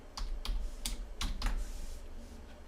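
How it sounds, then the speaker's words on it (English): Fingers tapping on a computer keyboard, about half a dozen close, crisp keystrokes in quick uneven bursts, then a brief quiet stretch. "I'm going to type"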